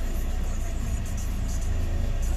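A Toyota AE101 Corolla GT engine idles with a low, steady rumble, unbroken and close, with no voices.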